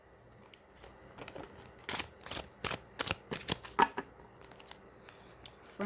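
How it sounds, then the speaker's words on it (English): A deck of tarot cards is shuffled close by in a series of crisp riffling bursts and soft slaps, with irregular rhythm and no talking. "do one more shuffle."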